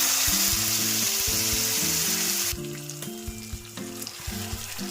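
A paste of ground ripe red chillies, tomatoes, urad dal and chana dal hits a hot oiled pan with a loud, steady sizzle that eases after a few seconds into softer frying, with background music underneath throughout.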